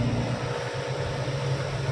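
A 14-foot Traveller van drives at night along a waterlogged road, its tyres giving a steady, low droning whine with a constant wash of road noise beneath.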